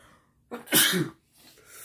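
One sharp human sneeze bursts out close by, preceded by a quick inhale and followed by a faint breath.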